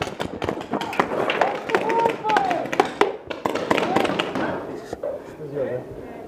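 Rapid suppressing gunfire in the tactical shooter VICE Foxtrot comes as dense bursts of sharp cracks throughout, with voices talking over the shots.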